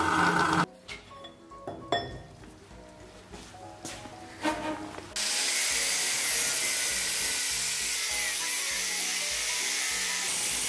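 A drill bores a hole through a smooth extruded metal tube, with a few seconds of irregular clattering and bursts at first, then a loud, steady high whine that holds to the end.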